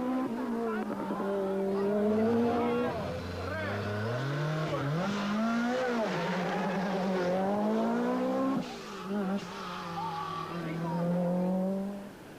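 Group B rally cars race at the 1986 San Remo rally, including a Lancia, with loud, sustained engine roars rising and falling in pitch through gear changes, close and continuous.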